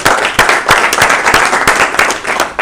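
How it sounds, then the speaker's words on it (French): An audience claps loudly and continuously in a room, sharp individual hand claps standing out over a dense, even wash of applause. "de vrais applaudissements"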